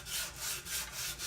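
A block of wood is hand sanded with the grain in steady back-and-forth strokes, each pass a broad, even rasping hiss with a slight pulse at the turn, close and alone with no talk.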